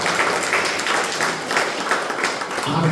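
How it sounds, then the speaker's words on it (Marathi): A congregation at a prayer gathering claps their hands in a dense, sustained round of applause with rhythmic pulses, fairly loud and filling the room, ending with a brief voice at the close. "आपण टाळ्या वाजवतो"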